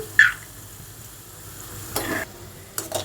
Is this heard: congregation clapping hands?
no